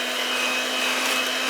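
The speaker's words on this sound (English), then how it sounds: "Now we're gonna give it a mix with a hand mixer." A hand mixer whirs steadily while blending keto pumpkin bread batter with cream cheese and an egg. The motor drones loud and continuous at close range, with no talking over it.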